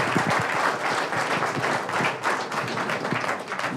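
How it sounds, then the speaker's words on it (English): A crowd at an Advantage Andhra Pradesh evening event gives a big round of applause, a dense and steady clatter of many hands that carries on without a break. "let's give all of them a big round of applause"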